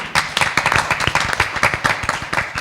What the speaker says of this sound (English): So let's give Him a wonderful round of applause